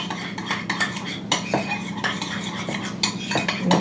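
Breaded haddock ingredients mixed in a bowl, heard as quick, busy clattering and scraping of a utensil against the bowl, close and continuous with sharper knocks, and no talking.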